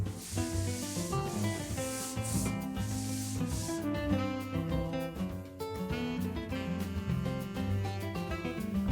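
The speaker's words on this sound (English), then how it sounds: "I used a push broom to scrub the floor and move the acid around to get a nice even coat on the concrete." A push broom scrubs acid across a concrete floor, making rough, steady scraping strokes. The strokes are clearest early on and are partly buried under loud music.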